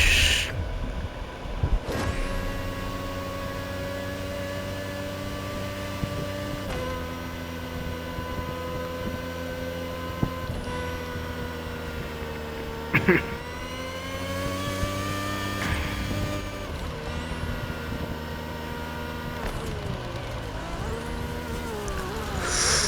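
Car engine holding a steady high drone with shifting pitch while drifting in The Crew Motorfest, loud and continuous for over twenty seconds, with a few gear-change dips and brief sharp bursts along the way, no talking.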